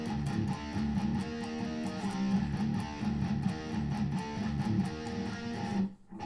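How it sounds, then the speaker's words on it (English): Distorted electric guitar power chords chug in a fast, tight rhythm, with two short palm-muted strokes between the chords, then stop abruptly near the end. "do 2 palm mutes, and then do the next power chord, followed by 2 palm mutes again"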